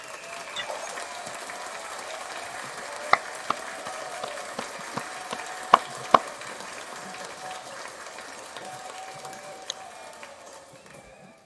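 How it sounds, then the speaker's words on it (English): A small audience at a podcast rap battle tournament gives the judges a round of applause. The clapping is light and diffuse over a room hum, with a few sharper, louder claps scattered through it before it tapers off. "Round of applause to the judges."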